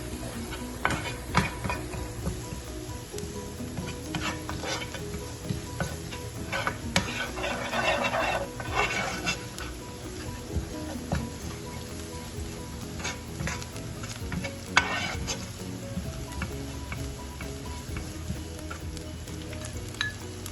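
Chopped garlic frying in a pan with chicken cutlet ingredients, a steady close sizzle with occasional stirring scrapes and soft clinks throughout.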